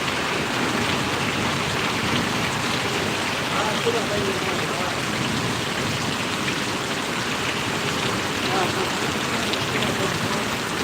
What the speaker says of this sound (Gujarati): ખૂબ વરસાદ વરસી રહ્યો છે ગારિયાધાર તાલુકાના પરોડી ગામે